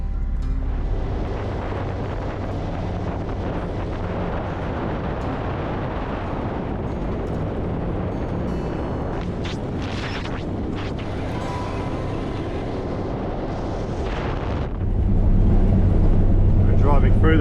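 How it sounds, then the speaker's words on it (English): A vehicle drives along the rough, stony gibber-plain track of Cordillo Downs Road, giving a constant loud rumble of tyres and wind that swells louder toward the end. "Driving through those gibbler plains, with all the little stones everywhere. Very rocky, a little bit more of a bumpy road"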